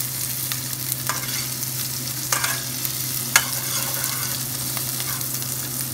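Onions browning in a pan with curry powder, giving a steady close sizzle and frying hiss with occasional stirring scrapes, under a constant low hum.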